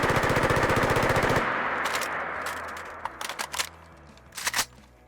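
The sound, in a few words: video game assault rifle rapid fire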